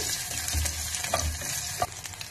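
Curry leaves crackle and sizzle in hot oil for tomato rasam, a close, steady frying hiss punctuated by sharp pops and stirring clicks, with no voices.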